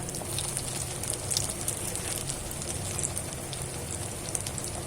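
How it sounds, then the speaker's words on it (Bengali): Battered eggplant fritters (beguni) fry in oil over medium-low heat, giving a steady, dense crackle and sizzle with no voices. "লাল করা পর্যন্ত ভেজে নিব"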